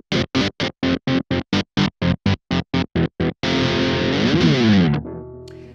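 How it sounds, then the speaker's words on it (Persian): An electric guitar, a Jackson Pro Monarkh SC with two pickups, two volume controls and a kill switch, plays heavily distorted chugs: a rapid run of sixteen short choppy stabs, then a loud sustained chord that rings out and quickly cuts to silence. "صدای گیتار رو یه بار دیگه براتون در میارم بشنوید."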